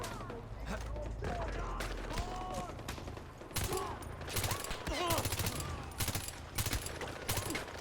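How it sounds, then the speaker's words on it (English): Enemy gunfire in the Far Cry 4 video game: rapid bursts of automatic shots, sharp cracks grouped in clusters that grow denser and louder in the second half, over a steady background of game ambience. "Hey, who's actually shooting me?"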